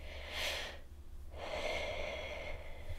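Close, soft meditative breathing: one slow airy inhale, a brief pause, then a long steady exhale, with no talking.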